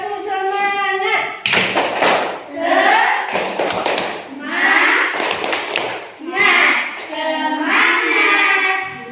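A class of children claps a rhythmic spirit cheer in bursts of hand claps alternating with chanted voices, loud and close in a classroom.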